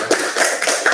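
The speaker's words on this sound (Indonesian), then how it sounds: "Tepuk tangan untuk kelas ini." A small group applauding a class, quick close uneven claps and taps in a short burst, fairly loud and dry with no talking.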